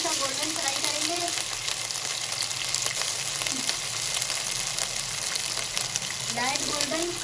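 Ginger and garlic fry in hot oil, turning light golden for a mutton biryani, giving a steady, close, continuous sizzle with faint stirring scrapes and no talk.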